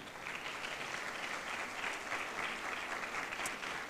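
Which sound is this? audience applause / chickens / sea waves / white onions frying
audience applause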